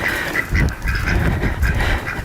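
Magpie ducks quack and honk in a busy, overlapping chorus while being herded by a working dog, the calls close and fairly loud over rustling outdoor background.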